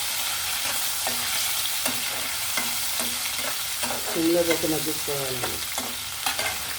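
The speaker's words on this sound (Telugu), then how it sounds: "పచ్చిమిరపకాయలు టమాటాలు వేసానండి. సిమ్లో పెట్టి మగ్గించుకోవాలండి" Green chilies and tomatoes cook over low heat, making a soft steady sizzle broken by regular spoon scrapes and taps against the pan, with a brief spell of speech partway through.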